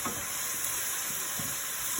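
A steady, close sizzle of spices frying in a hot pan, with soft stirring bumps now and then and no voices.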